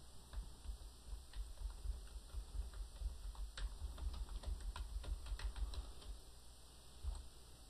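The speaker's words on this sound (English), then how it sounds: "I'm going to type, "This is a file I can save."" Keys clatter on a computer keyboard as a short sentence is typed, a quiet, uneven run of light clicks over a steady electrical hum, with no speech.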